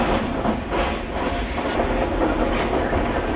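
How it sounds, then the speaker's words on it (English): White Pass Railroad train pulling out of Skagway and climbing into the mountains, a steady, loud rumble of rolling wagons with a continuous rattle and faint rhythmic clatter, no voices. "This is the White Pass Railroad, leaving Skagway, going up the mountain."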